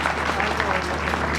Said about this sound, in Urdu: ان کے لیے تالیاں بجائیں گے۔